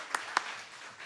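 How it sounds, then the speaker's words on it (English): An audience at an anti-NATO peace counter-summit breaks into applause: a short burst of dense clapping with a couple of sharper claps standing out near the start. "Just give them a round of applause for being here."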